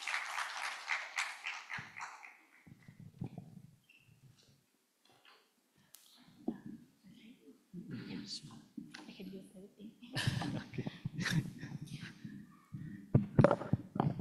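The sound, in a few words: audience applause welcoming a speaker to the stage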